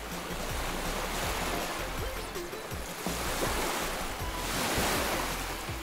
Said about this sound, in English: there's some more water waves though.